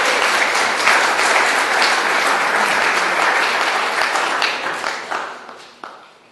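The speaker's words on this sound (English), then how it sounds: "So give Andrew a bit of a clap." Applause from a live audience at an evening talk, a dense wash of many hands clapping that stays steady and loud before thinning and fading out toward the end.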